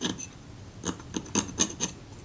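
Back of a scalpel blade scraping old glue and leatherette off the metal base of a Kodak Retina IIIc camera: close, repeated raspy scratching strokes in an uneven rhythm, with no talking.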